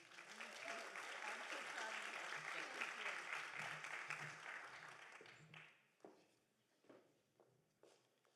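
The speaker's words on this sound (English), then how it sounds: "One more round of applause" An audience at the SDSU Sustainability Summit 2025 gives a loud, dense round of applause that fills the first six seconds, then fades quickly into a few scattered claps and thuds.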